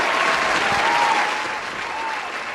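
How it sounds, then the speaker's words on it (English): Studio audience applause, a dense steady wash of clapping that carries on for a few seconds and eases off slightly toward the end. "So let's give Wyverlin a hand clap"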